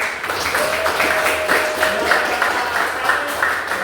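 Classroom applause for a group's student-made poster, a steady, fairly loud mass of clapping from many hands that holds evenly throughout, with a faint sustained tone running underneath.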